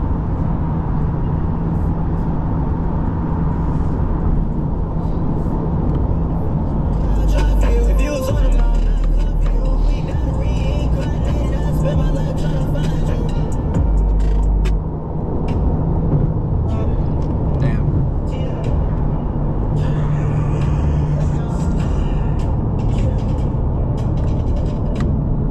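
A 2023 Chevrolet C8 Corvette cruises at about 50 mph on roads near Atlanta, its engine and road noise a loud, steady rumble heard from inside the car, with occasional bumps and surges.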